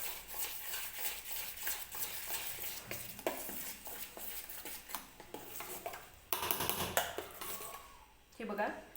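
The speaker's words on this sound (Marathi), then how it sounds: "बघा अशा पद्धतीने एकाच बाजूला फेटून घ्यायचं" Rava appe batter with baking soda being whisked in one direction in a bowl, a quick repetitive scraping rhythm of spoon against the vessel, close and soft, with a voice talking over it.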